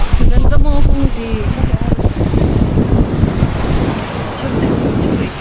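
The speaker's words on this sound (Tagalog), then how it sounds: "Ang lakas ng alon." Strong ocean surf breaks on a beach in a steady, roaring wash, with heavy wind buffeting the microphone throughout and a voice briefly heard at the start.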